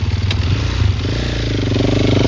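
A motorcycle ridden in a wheelie during a desert rally, its engine droning loud and steady close by for the whole stretch, with a slight rise in pitch and a faint clatter.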